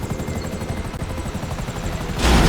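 Helicopters in a video game give a loud, continuous rotor chop with a steady rhythmic thump, swelling louder in the last moments, with no talking.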